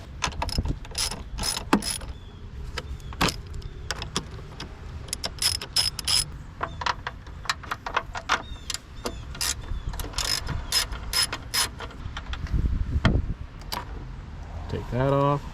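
A 10mm bolt being loosened on the negative battery cable of a Chevy Cruze, a ratchet clicking in quick bursts up close with metallic clinks and tool handling throughout.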